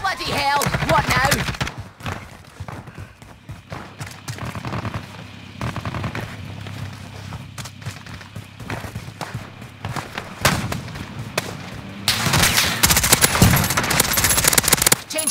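Rapid automatic gunfire fills a Call of Duty Modern Warfare battle, with dense bursts, scattered single shots and a loud sustained volley at the end. Voices speak briefly between the bursts.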